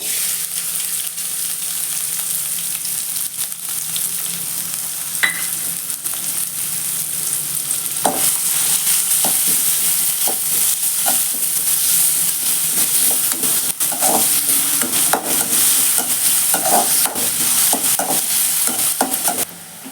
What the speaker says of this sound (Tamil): லைட்டாக கொஞ்சம் எண்ணெய் ஊற்றிக்கிறேன். இப்போ வெங்காயம் சேர்க்குறேன்.